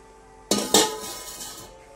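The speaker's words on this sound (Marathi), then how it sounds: "आता या पातेल्यामध्ये मी एक झाकण असं ठेवते।" A lid and then a small plate are set inside a cooking pot: two quick metallic clanks a moment apart, close, with a ringing tail that fades.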